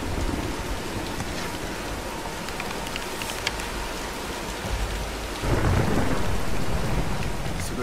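Thunderstorm with heavy rain in the video game Tomb Raider: a constant loud downpour with rumbling thunder, swelling into a heavier, deeper roll near the end.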